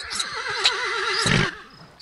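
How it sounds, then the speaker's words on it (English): A horse in a farm simulation video game whinnies once, a loud, close, wavering neigh lasting about a second and a half, heard alone without talk. "Oh, it's a horse. Hi, horsey."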